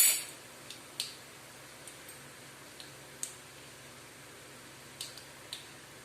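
Mustard seeds spluttering in hot oil while cooking curry leaves thokku, sparse sharp pops and crackles at irregular intervals over a quiet background.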